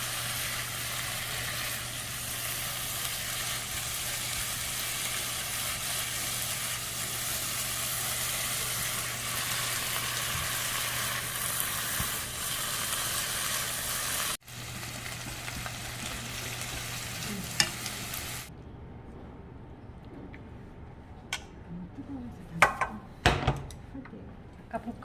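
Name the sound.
stir-frying beef with shiitake and wood ear mushrooms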